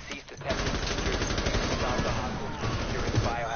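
Rapid automatic gunfire from a first-person shooter game, a dense continuous burst of shots running throughout with some speech-like sound mixed in.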